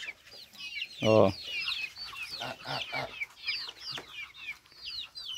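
Chicks and chickens clucking and peeping busily while pecking at leaves on a farm, a continuous chorus of high chirps up close, with a brief spoken voice over it.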